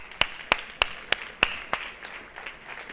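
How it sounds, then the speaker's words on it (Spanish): Sparse, slow clapping from a small audience at a state conference on vicarious and gender violence, roughly six distinct claps at a steady rhythm fading into faint murmur, with no one speaking. "Muchas gracias y un aplauso."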